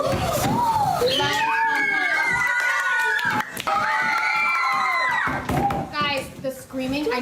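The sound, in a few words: excited children screaming in class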